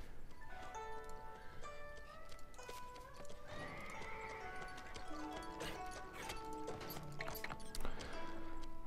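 Horse hooves clip-clop in a steady trotting rhythm while horses neigh and whinny repeatedly in a Stronghold Warlords medieval strategy game, with game music tones underneath.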